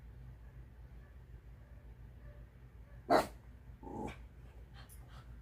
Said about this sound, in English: I can't help it if they're barking out there.